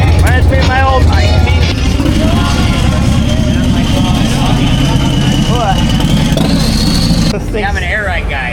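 A turbocharged Harley-Davidson Road Glide motorcycle engine runs outside a saloon, producing a loud, continuous deep rumble while people talk over it.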